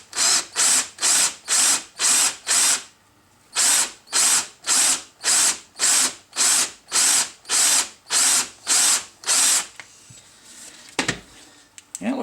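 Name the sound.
power drill drilling a Volvo brake caliper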